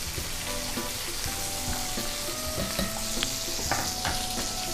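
Fries bubbling in hot oil, a dense continuous sizzle with scattered pops and light clinks from a utensil nearby, steady and fairly close, no one speaking.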